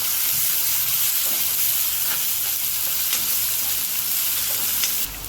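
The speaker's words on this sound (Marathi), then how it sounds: "तेल तापले, तेलामध्ये मोहरी तडतडली की जिरं, आलं लसूण आणि मिरची, कांदा परतून घेऊया आपण" Mustard seeds, cumin, ginger, garlic, chilli and onion frying in hot oil for a potato curry, giving a loud, constant sizzle with popping crackles that runs the whole time.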